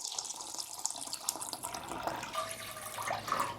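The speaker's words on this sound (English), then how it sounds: "I'm gonna put in 4 cups of water." Four cups of water are poured into a pot, a steady close splashing, trickling stream that runs continuously and swells slightly toward the end.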